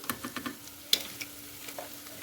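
A spoon scrapes and stirs spices into vegetables in a pan for pocket samosa filling, giving soft irregular strokes over a faint sizzle, with one sharper clink midway.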